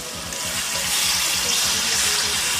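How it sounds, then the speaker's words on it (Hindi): A steady stream of water splashes and gurgles into a pot of rice and peas for pulao, a bright continuous rush with bubbling underneath. "अब मैं इसमें पानी डालने लगी।"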